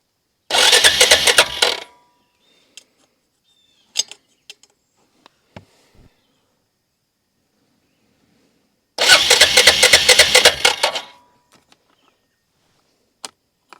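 Suzuki Eiger 400 ATV with no spark, its starter cranking the engine in two bursts of about one and two seconds each, loud and close, without firing, separated by quiet with small clicks and handling noises.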